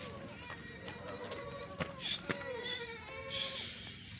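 Beetal goats bleating on a goat farm, several wavering calls overlapping at moderate distance amid background chatter and farm noise, with people talking nearby.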